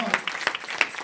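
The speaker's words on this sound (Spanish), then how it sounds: "Denle una ofrenda de aplausos al Señor." A church congregation applauds during a sermon, with brief scattered claps and hand bursts over roughly a second, moderately near and loud, mixed with some voice sound.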